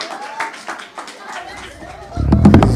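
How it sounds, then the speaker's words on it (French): A church congregation applauding during a praise and testimony night, scattered claps building into louder, denser clapping near the end, mixed with voices. "On applaudit le Seigneur pour nous."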